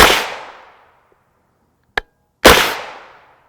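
Two sharp 9mm gunshots from Winchester M1152 ammunition fired into ballistic gel, loud and close with short decaying tails, separated by a brief metallic click.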